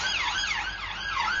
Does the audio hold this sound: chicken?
no